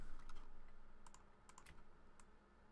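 Quick bursts of typing on a computer keyboard while designing in Photoshop CC, soft clustered key taps close by with short pauses between them, no talking.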